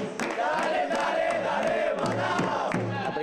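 Organized football supporters in Manaus chant and cheer together, a loud massed crowd roar with rhythmic shouted bursts, sustained throughout.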